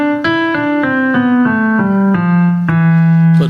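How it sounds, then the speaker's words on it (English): A melody in the Phrygian mode, from the Bach hymn tune "Gethsemane", moves slowly downward in sustained, evenly paced tones, one after another, clear and close with no voices over it. "In fact, the melody is written in the Phrygian mode, which sounds like this."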